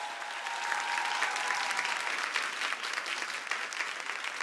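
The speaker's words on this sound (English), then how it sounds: "Give them a round of applause." An audience at a competition finals claps in steady, dense applause, moderately distant and sustained throughout with no pause.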